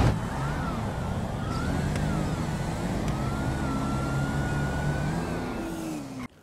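Hellfire and Mustang drag cars launch together in GTA V, their engines roaring loud and steady with rising whining tones as they accelerate, then cutting off at the end.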